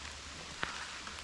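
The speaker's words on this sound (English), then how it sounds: "Kind of cool out here in the rain." Rain falls through Wisconsin woods as a steady, soft hiss with no clear individual drops, broken once by a single brief tick near the middle.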